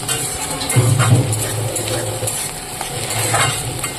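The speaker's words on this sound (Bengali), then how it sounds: "তো মোটামুটি ভাজা হয়ে গেছে আর একটু নেড়ে চেড়ে আমি নামিয়ে দেবো" Bitter gourd frying with chopped onion and green chilli in a pan, being stirred: a steady low sizzle with scraping utensil strokes and occasional clinks, fairly close and continuous, no talking.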